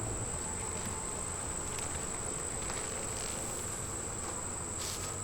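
A dense, steady hum of many honeybees buzzing in an open beehive, continuous and close with no break.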